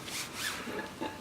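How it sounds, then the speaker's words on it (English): Inside the torn CV joint of a Tesla Model 3, the axle end grinds in short, faint scraping bursts, rough and rasping, with a brief rub near the end. "that sound is the end of the axle grinding inside the joint."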